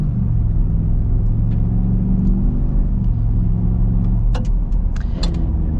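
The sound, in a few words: 2026 Ford Super Duty V8 pickup truck driving on gravel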